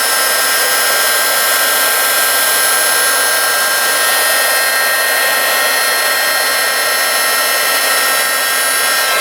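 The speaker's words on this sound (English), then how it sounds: "hit it with my heat gun" A heat gun blows hot air for embossing, a loud, steady whooshing roar with a faint whine running unbroken throughout, very close and alone.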